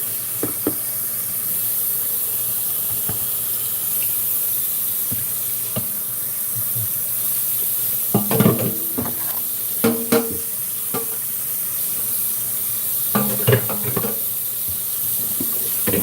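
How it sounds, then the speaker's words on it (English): Dishes are washed by hand under a running kitchen tap, a soft steady water hiss with intermittent clinks and clatters of a bowl and utensils, close and fairly quiet with no talking. "is do my dishes before eating"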